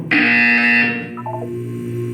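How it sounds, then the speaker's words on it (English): A loud electronic buzzer in the video game Portal 2 blares for about a second, then fades into a lower tone with a few descending beeps over a steady hum. "When you hear the buzzer, look up at the ceiling."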